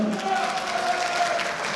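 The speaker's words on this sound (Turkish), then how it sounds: "Giresun'u alkışlıyoruz" Steady crowd applause at a municipal consultation meeting with civil society groups, a dense, even clatter of clapping, sustained throughout at moderate loudness.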